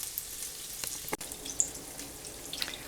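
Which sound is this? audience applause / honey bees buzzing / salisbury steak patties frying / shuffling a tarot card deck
salisbury steak patties frying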